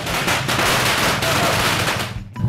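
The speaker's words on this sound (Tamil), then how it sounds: "பட்டாசு வெடிக்குது" Deepavali firecrackers bursting outdoors in a dense, continuous rapid-fire crackle, loud and unbroken for about two seconds before cutting off abruptly.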